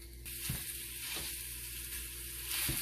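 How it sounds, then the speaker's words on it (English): Sausage browning in a pan gives off a steady, loud sizzle and frying crackle that runs through the whole stretch, with a few soft knocks of a utensil chopping and stirring the meat. "I have my sausage in my pan, and now I'm starting to brown it up."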